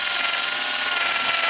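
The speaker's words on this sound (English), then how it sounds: "Drill." A power drill bores into a wooden desk with a steady, loud, high-pitched whine that holds without a break for the whole moment.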